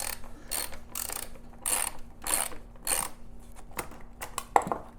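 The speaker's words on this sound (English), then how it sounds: "Let me get my wrench." A ratchet wrench clicks in repeated quick bursts as it takes out the tail fender bolts on a 2017 Suzuki SV650, each run of ratcheting close and crisp, with short pauses between them.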